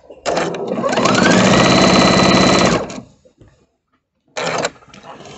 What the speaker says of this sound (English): I'm going to sew this piece right on here